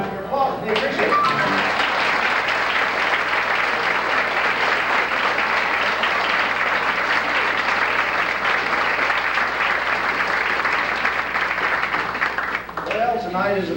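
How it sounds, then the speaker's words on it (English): An audience bursts into loud, sustained applause at a live event about World War II home-front memories. The thick wash of clapping holds steady for around twelve seconds before it fades and a voice begins. "Your applause, we appreciate it."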